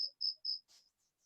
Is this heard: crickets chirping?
yes